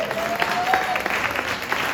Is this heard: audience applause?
yes